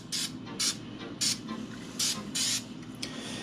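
Penetrating oil sprays from an aerosol can onto a Traxxas XRT RC car in about six short, sharp hissing bursts of uneven length, close up.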